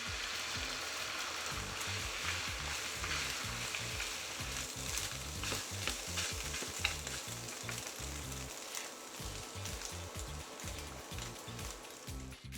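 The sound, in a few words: eggs frying in a pan with chopped peanuts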